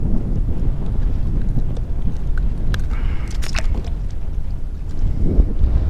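Steady wind buffets the microphone on a small fishing boat in an inshore creek, a constant low rumble with brief gusts and faint water and gear noises.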